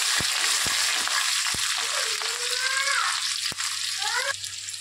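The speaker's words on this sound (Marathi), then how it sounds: "1 टीस्पून जिरं टाकणार आहे, छान तडतडून द्यायचं आहे।" Cumin seeds and green chillies crackle in hot oil for sabudana khichdi, a close, steady sizzle broken by sharp isolated pops, with faint squeaky scraping as the pan is stirred.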